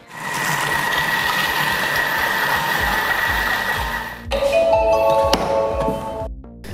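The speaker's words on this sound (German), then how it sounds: "das Ganze wird jetzt 15 Sekunden auf Stufe 4 miteinander vermischt" A Thermomix blends smoked salmon cream at speed 4, giving a steady mechanical whirring and grinding hum for several seconds that changes in pitch near the end before winding down.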